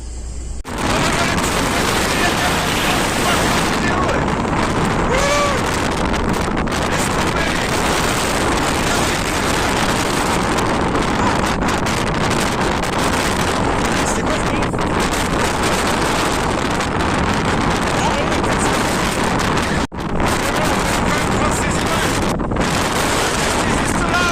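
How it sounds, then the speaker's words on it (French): A strong, icy wind blows outdoors, roaring and buffeting against the microphone in a loud, almost unbroken rush from start to finish. "il y a un vent de malade et je pense que le vent, il est glacial"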